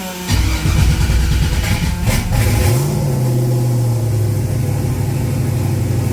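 A 1980 Pontiac Trans Am V8 that has been sitting a while cranks, catches and revs briefly, then settles into a loud, steady idle nearby.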